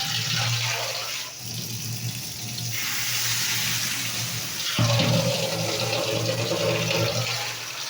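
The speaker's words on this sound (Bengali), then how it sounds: "এটা জল দিতে হবে।" Water poured into a cooking pot, a steady rushing pour running for several seconds with a louder splash and gush near the end, close and fairly loud with no talk.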